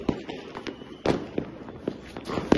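Diwali firecrackers and fireworks going off outdoors: a series of sharp bangs and pops at uneven intervals, some close and loud, others fainter, over a background hiss with no clear talking.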